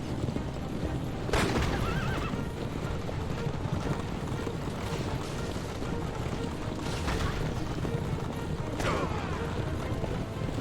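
Horse-drawn carriages in the Assassin's Creed: Revelations video game, with several sharp whinnies over a steady clatter of hooves and rolling wheels, moderately close, and faint voices in the background.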